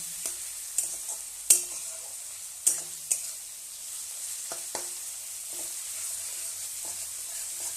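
Meat cooking in a home kitchen pan, with a spatula scraping and stirring in scattered sharp clicks over a low steady sizzle, fairly close and moderately quiet, no talk.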